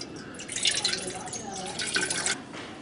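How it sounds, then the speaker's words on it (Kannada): Mango pickle brine, salt fully dissolved into liquid after about ten days, trickles and drips into a dry vessel, a thin splashing pour that swells and fades over a few seconds at moderate closeness. "ಈಗ ನಾವು ಈ ನೀರನ್ನು ಒಂದು ಡ್ರೈ ಆದ ಪಾತ್ರೆಗೆ ತೆಗೆದುಬಿಟ್ಟು"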